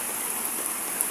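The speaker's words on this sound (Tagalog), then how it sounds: "tingnan nyo ang ulan. Sobrang lakas" Heavy rain with flooding water pours steadily behind a house, a dense, loud, continuous hiss and rush without pauses; no voices.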